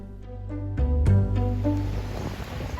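Ocean waves at a swimmable beach on Kauai, Hawaii, surf washing in loud and close with a rising rush of water and wind noise on the microphone.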